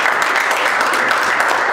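Stand-up comedy crowd clapping in a continuous, even burst of applause, fairly loud and close, with no voices on top.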